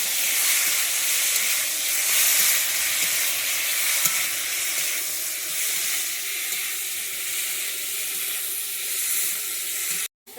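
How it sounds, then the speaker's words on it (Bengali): Steady, loud sizzling of prawns frying in a pan, a continuous crackling hiss that runs almost the whole time with no voices. "চিংড়ি মাছ ভাজতে বেশিক্ষণ সময় লাগে না"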